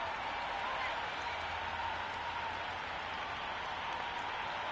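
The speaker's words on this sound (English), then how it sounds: "The crowd are making a heck of a lot of noise even before the first ball's been bowled" A dense, continuous roar of a large cricket stadium crowd in the video game Cricket 26 cheering and clapping, steady and unbroken, with a faint voice underneath.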